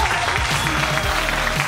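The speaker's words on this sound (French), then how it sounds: "On peut déjà les applaudir s'il vous plaît parce qu'ils sont vraiment top." An audience applauding at the 25th Fenelon school ball, a dense, continuous burst of clapping from a large crowd, fairly loud and steady throughout.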